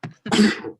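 A single close, loud sneeze indoors at a dinner table, a short intake followed by an explosive burst, with no talk during it.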